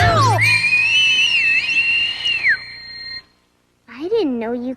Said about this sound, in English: I didn't know you could whistle that loud, Mama.